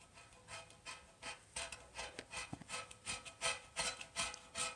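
A wire brush scrubbing old paint on a mini bike frame, rhythmic back-and-forth rasping strokes, about a dozen quick scrapes in steady succession, close and fairly faint, with no talking.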